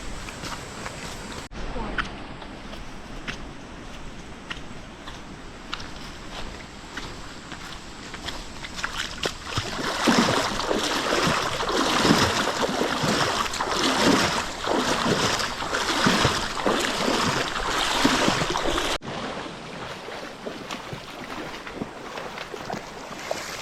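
River water rushing during a river crossing on a trail hike, a broad splashing wash that grows louder mid-way, with wind buffeting the microphone and voices talking nearby.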